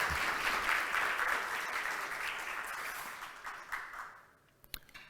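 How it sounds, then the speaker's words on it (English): A conference audience applauds speakers after a talk, a dense, steady round of clapping that fills most of the moment and then thins out, with a few last scattered claps near the end. "let's give a big round of applause for them"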